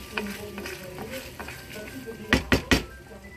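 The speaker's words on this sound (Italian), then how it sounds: "Adesso iniziamo un mestolo per volta e portiamo a cottura" Pumpkin risotto stirred in a pot as broth is added a ladle at a time, giving a soft steady sizzle and scraping, then three sharp clinks of a spoon against the pot near the end.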